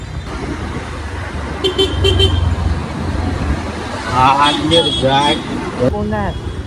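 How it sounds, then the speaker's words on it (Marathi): Busy road traffic near the Nerul highway, with engines rumbling and car horns tooting in short beeps. Traffic noise fills the background while people talk nearby. "ट्रॉफिक खूप लागलेली आहे ट्रॉफिक मध्ये आम्ही फसलो पूर्ण"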